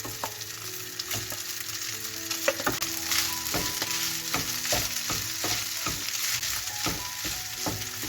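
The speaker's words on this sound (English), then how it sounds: "Let's stir that in. I'm going to add rest of the rice as well." Sweet and spicy chicken with rice being stirred in a pot, a steady sizzle over which a spoon scrapes and knocks in a fairly regular rhythm, close and clear with no talking.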